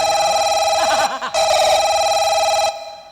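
A telephone rings with a steady electronic tone in repeated bursts, loud and close, broken by brief pauses, with no talking over it.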